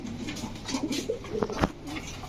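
Young Gorra pigeons coo nearby in a short run of soft, low, throaty calls, with a few sharper clicks and flutters in between.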